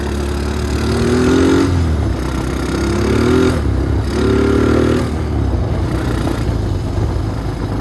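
A 1997 Honda Recon 250 ATV that sat outside for fifteen years runs up through its gears, its engine repeatedly revving and dropping in pitch with each shift, loud and close, with no talk.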